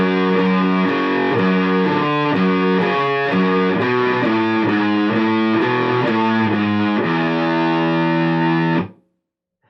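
Heavily distorted electric guitar plays a riff, a loud, driving run of chugging palm-muted notes and rapid melodic figures for about nine seconds before cutting off abruptly into silence.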